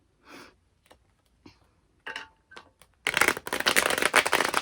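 A deck of tarot cards is given a quick riffle shuffle, a dense burst of flapping card noise after a few soft taps and handling sounds at close range.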